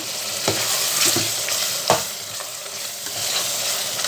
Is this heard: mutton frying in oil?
yes